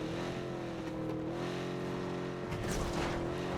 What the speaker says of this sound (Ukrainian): Тачку не глушу, трошки вам вуха буде шуміти